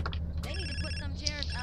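A phone rings in the game GTA: San Andreas, its repeated electronic ring tones mixed with game sounds while someone talks over them.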